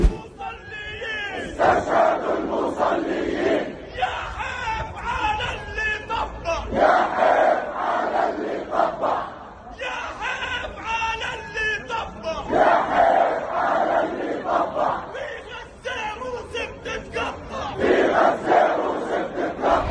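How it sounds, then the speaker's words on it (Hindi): Large crowd of protesters against Israel in Jordan, a loud continuous roar of many voices rising in repeated chanting surges and shouts over about twenty seconds. "ठीक ऐसे ही जॉर्डन में भी इजराइल के खिलाफ जोरदार प्रदर्शन जारी हैं।"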